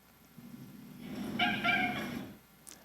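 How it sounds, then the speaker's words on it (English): Short, high-pitched animal chirps, about three in quick succession, sit over a steady low rumble in a quiet setting. They are brief and moderately loud. "The second class are these shorter, higher pitched vocalizations that the literature calls chirps."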